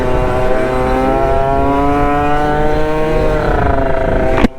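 A loud, close, high-pitched Aprilia SR50 scooter fitted with a Malossi RC1 engine revs hard and holds a sustained screaming note, climbing slightly, then cuts off abruptly with a sharp click at the end.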